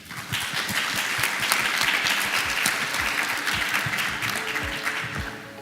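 Audience at an SDMX global conference clapping for the presenters, a steady round of applause with distinct individual claps close by, lasting several seconds.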